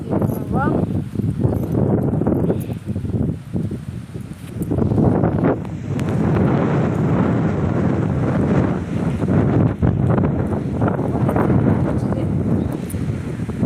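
Strong wind roars and buffets the microphone in a continuous rushing blast, with rustling beneath it.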